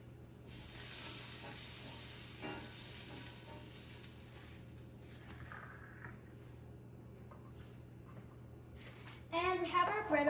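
Butter sizzling in a hot pan for French toast: a steady, bright hiss begins almost at once and holds, slowly fading, with a brief voice near the end.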